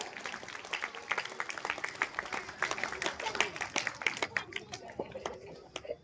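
Steady applause from an audience honouring prize-winning students at a school felicitation ceremony, dense continuous clapping at moderate distance with faint crowd murmur and a few chuckles mixed in.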